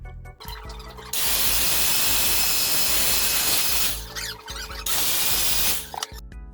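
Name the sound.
electric mixer whipping cream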